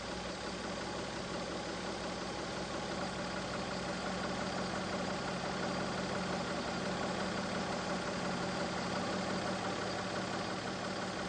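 Mazda MX-3 K8 engine idling steadily during an idle speed check, a continuous even drone with no breaks and no talking.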